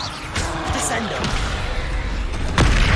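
In Hogwarts Legacy, the Descendo spell slams an enemy to the ground with a heavy thud and crash near the end, over a busy bed of combat magic effects.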